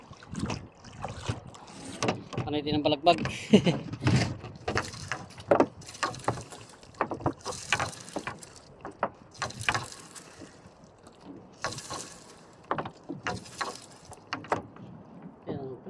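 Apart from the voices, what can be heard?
small boat moving on water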